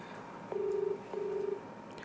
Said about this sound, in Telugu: రాజేష్ ఫోన్ రింగ్ అవుతుంది